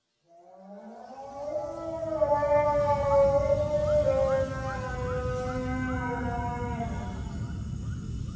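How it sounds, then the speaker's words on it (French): A hungry tiger in a forested valley gives a long, snarling, wailing howl with a drawn-out harmonic tone that swells and then holds steady over a low rumble, loud and alone. "il entendit la plainte hargneuse et lancinante d'un tigre qui n'a rien pris"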